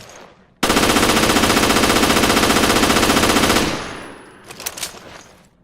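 Jessica's G18 handgun in Resident Evil: Revelations fires on full auto, a loud, rapid, unbroken stream of shots lasting about three seconds, then cutting off into a ringing echo tail with a few faint clicks.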